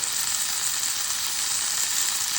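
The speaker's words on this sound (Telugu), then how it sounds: "ఇప్పుడు నేను ఇందులో చిన్న చిన్నగా కట్ చేసుకున్న, అంటే మరీ చిన్నగా కాదు పెద్దగా కాదు, మీడియం సైజ్ పొటాటోస్ అనేవి వేస్తున్నాను." Medium-cut potatoes tossed into onions frying in oil, a dense, steady, close sizzle with constant bright hissing and no pauses.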